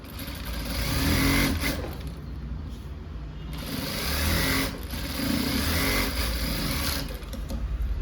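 A sewing machine runs steadily, stitching a blouse without lining at a tailoring workbench. The close, even mechanical whir swells and eases in speed over about eight seconds, with no voice above it.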